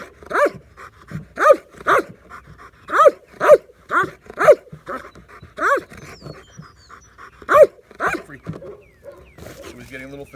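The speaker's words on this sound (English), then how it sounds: "you see the barking get interrupted by him looking for oxygen" A dog in endurance barking training gives a string of loud, deep barks in uneven bursts, broken up by rapid heavy panting as he tires, close to the microphone.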